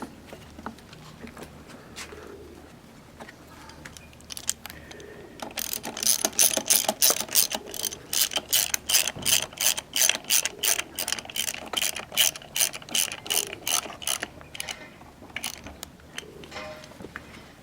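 A hand ratchet cranks rapidly while tightening the retention bolt on top of a Subaru engine head, first a few slow clicks, then a long even run of loud, close metallic ratcheting.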